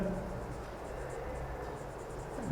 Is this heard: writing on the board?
yes